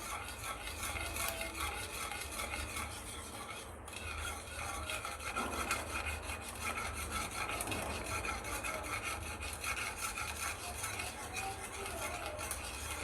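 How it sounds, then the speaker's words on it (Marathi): A semolina papad mixture is stirred in a pan over a low gas flame, a continuous soft scraping and rubbing that rasps along steadily at close range, with no one talking. "याला फक्त मिक्स करत राहायचं आहे"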